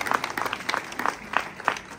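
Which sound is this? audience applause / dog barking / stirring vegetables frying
audience applause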